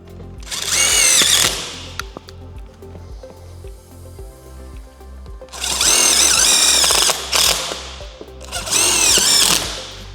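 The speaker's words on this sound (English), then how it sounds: "I'm going to drill a couple of entry points so that I can get my saw into place" A power drill whirs loudly in three bursts, the bit biting in with a high grinding whine, separated by quieter stretches of low motor hum.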